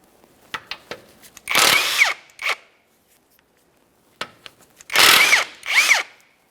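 A power tool spinning out the two 17mm-headed bolts holding a lower ball joint to the steering knuckle of a 2010-2013 Kia Forte Koup, two loud whirring bursts, each preceded by clicks and taps, close and alone.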